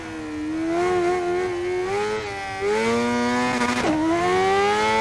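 A Honda CBR 600RR motorcycle engine lapping Monza in the racing game Ride 5, a loud high-pitched whine holding at high revs, rising through the gears with a quick drop and recovery on a shift.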